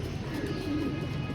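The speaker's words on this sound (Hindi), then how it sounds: "ये हमारे वो कबूतर हैं जो कि हमने अब चेतर में स्टार्ट करने हैं" Pigeons kept as pet flock birds coo softly in a close, low, continuous murmur of throaty calls over a steady background hum, with no speech.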